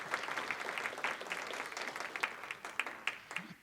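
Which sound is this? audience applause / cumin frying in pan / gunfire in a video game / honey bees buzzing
audience applause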